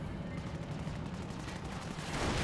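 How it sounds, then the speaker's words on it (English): A Company of Heroes mortar shell lands in a heavy, rumbling blast that swells toward the end, dense and continuous over battle noise. "Mortar gets an okay hit there, nothing too fantastic."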